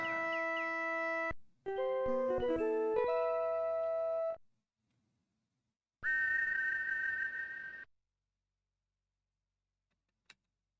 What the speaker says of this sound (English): Was that the whistle? Because that was a different noise.